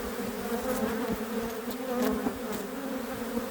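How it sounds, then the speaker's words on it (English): A dense, steady buzz of many honey bees humming close by, continuous and unbroken. "Make sure all the bees are off before we do that."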